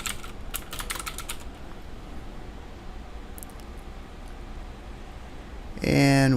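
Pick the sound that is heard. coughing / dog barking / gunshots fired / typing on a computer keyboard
typing on a computer keyboard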